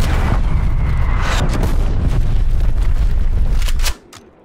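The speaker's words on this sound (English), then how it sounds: "Hostile artillery targeting active." Artillery shells explode in Call of Duty: Black Ops Cold War as loud, continuous booming blasts roll over one another close by, then cut off sharply near the end.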